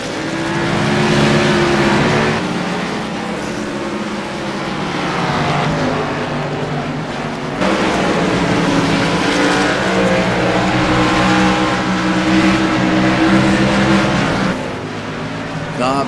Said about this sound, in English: Arms really heavy on the brakes, and Embry heavy on the brakes through the 5th turn